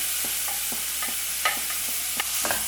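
Mushroom kurma masala is stirred in a pan with a spoon, giving a quick series of short scraping strokes in a regular rhythm over a quiet background sizzle, close and clear, with no voices.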